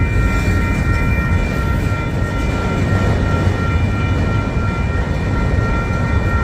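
A Canadian Pacific Railway freight train rolls past close by, a loud, steady rumble of wheels and cars with a constant roar throughout.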